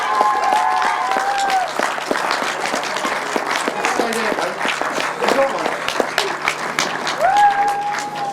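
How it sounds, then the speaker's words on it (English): Audience applause at a grasstrack racing prize-giving: scattered clapping and some crowd noise run steadily throughout, with announcer-style talk and tonal whistle-like sounds over it. "I'm sure this will be greeted with a great round of applause"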